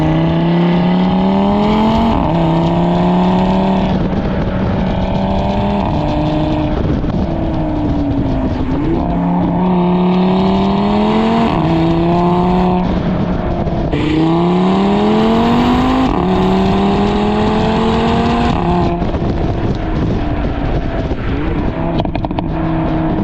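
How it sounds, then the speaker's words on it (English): An Audi RS3's five-cylinder turbo engine revs repeatedly through rising and falling pulls while driving, loud and close, with no voices. "It still infects you with this great sounding 5-cylinder turbo engine"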